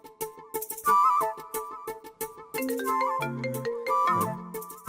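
A mobile phone rings with a melodic electronic ringtone for an incoming call, bright chiming notes repeating in a loud, close jingle that pauses briefly and then starts again.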